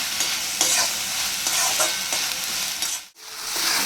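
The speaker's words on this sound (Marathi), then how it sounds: "कांद्याची पात एक दोन मिनटं छान अशी परतून घ्यायची आहे" Spring onion greens sautéing in a pan, a steady close sizzle and fry with scraping stir strokes, briefly cutting out near the end before resuming, no talk.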